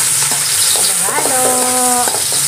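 Garlic and ginger frying in a pan on the stove, a loud continuous sizzle with stirring scrapes throughout and a brief tonal squeak in the middle, close up with no talk.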